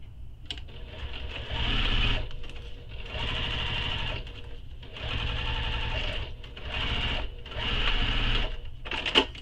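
Several sustained runs of a sewing machine sewing the side gusset of a tote bag, each a steady mechanical whir lasting a second or two, with short gaps and a faint click between them.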